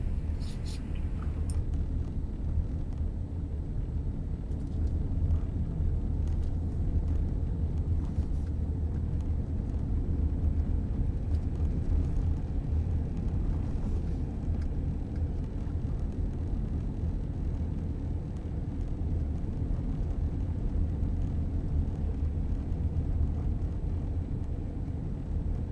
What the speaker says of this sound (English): I hope this little sequence captures the atmosphere of a drive through the Highlands.